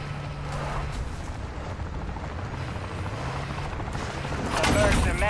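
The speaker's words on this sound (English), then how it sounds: "the mercs have scrambled a bloody helicopter." Low, continuous rotor drone of a helicopter in Call of Duty: Modern Warfare Zombies, with rumbling noise building and louder bursts near the end.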